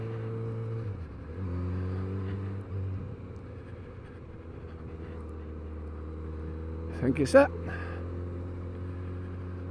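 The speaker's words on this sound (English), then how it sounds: "It's got a very, very fruity exhaust sound." A Kawasaki Z900RS fitted with an Arrow 4-into-1 full exhaust system and cat delete idles and revs on a lane, a steady droning engine tone that shifts pitch a few times, with a short spoken remark near the end.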